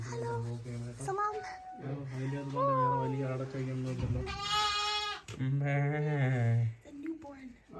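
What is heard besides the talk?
newborn lamb bleating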